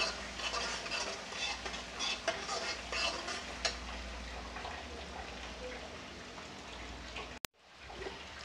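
Onions frying in a pan for soyabean kofta curry, stirred until golden brown: a close, steady sizzle with repeated scraping spoon strokes, ending in a sharp click and a quieter tail.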